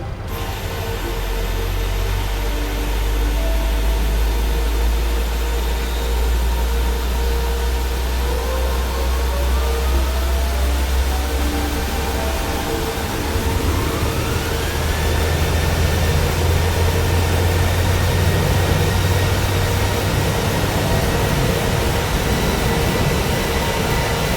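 A FlySafair jet airliner's engines spool up during startup outdoors, a broad steady roar and hiss with a whine rising in pitch partway through, loud and continuous, no voices.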